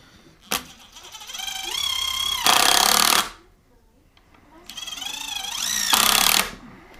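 Bosch 12-volt cordless drill boring into wood for a bed frame: two bursts of whining motor with rising pitch, each ending in a loud harsh stretch of drilling, with a quiet pause between them, close up.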